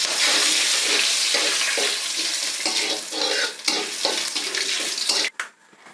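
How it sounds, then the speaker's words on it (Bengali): Cumin seeds and panch phoron spices crackle and sizzle loudly in hot oil with steady stirring, a dense, close hiss that holds throughout before dropping away abruptly near the end. "প্রথমে আমি দিয়ে দিলাম জিরা, তারপর আমি দিয়ে দিলাম 5 ফোড়ন, তো 5 ফোড়নগুলো আমি সুন্দর করে একটু ভেজে নেব।"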